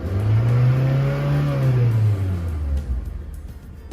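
A 2010 Honda City with an unstable idle is revved to around 4,000 to 5,000 RPM, its engine rising and holding a loud steady drone close by, then falling back toward idle, with no talking over it.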